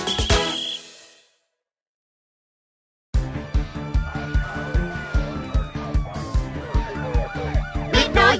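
A cartoon police car siren wailing loudly with a rising and falling tone over a rhythmic pulsing music beat, starting after a short stretch of silence.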